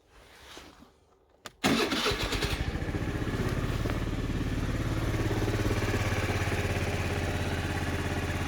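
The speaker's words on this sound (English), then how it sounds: "I'll just start up the engine and let it warm up a bit for some minutes." A Honda NSC50 Vision scooter's small engine cranks briefly after some quiet handling noise, then catches and settles into a steady, even idle, close by.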